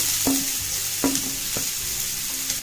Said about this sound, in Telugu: స్ప్రింగ్ ఆనియన్, 1 ఉల్లిపాయ ఇందులో వేసుకుందాము.